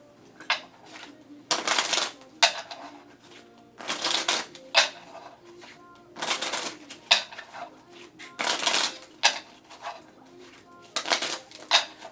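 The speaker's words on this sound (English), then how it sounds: "So then I must shuffle my cards again 5 times" Cards being riffle-shuffled several times, each a quick burst of crisp fluttering clicks, separated by short pauses.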